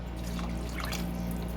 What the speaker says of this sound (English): a can of water.